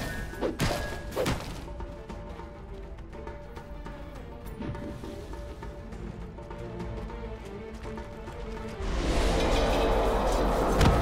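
Dota 2 match with Dire's middle tower under attack and then destroyed: dense clashing thuds and hits run throughout, swelling into a louder, sustained crashing roar near the end as the structure falls.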